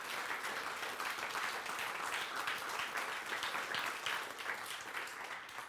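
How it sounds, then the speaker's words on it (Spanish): Steady congregation applause at a church service, a dense wash of many hands clapping together at moderate volume, sustained throughout. "Yo le doy un aplauso fuerte al Señor."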